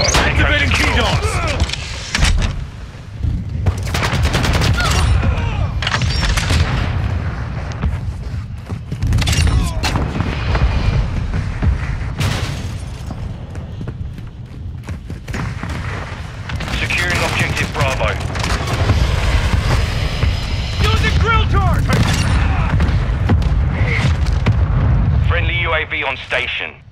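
Airstrike explosions in Call of Duty Modern Warfare 2 ground war: repeated heavy booms and rumbling blasts mixed with gunfire, loud and dense, with radio voices talking over them.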